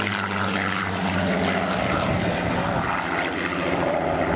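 Spitfire Mk XIX propeller fighter in flight, its piston engine and airscrew giving a loud, steady, close drone throughout, with no voices over it.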